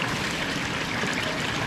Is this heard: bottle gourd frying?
no